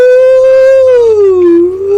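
A voice imitates a siren with one loud sustained wailing tone, holding steady and then sliding down before rising again at the end, alone with no other sounds.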